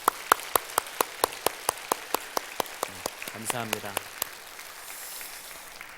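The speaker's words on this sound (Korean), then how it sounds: "우리 수고했다고 우리 박수 한번 하시죠" Slow, evenly spaced clapping by a church congregation during a worship service rings out at a steady beat, with a brief spoken word in the middle.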